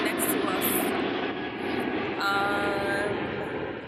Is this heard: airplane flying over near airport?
yes